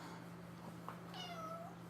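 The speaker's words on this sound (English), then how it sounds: "that's my kitty. That's a cat trying to jump in." A pet cat meows during an indoor podcast recording, a soft drawn-out meow rising then falling, heard faintly at a distance over a steady electrical hum.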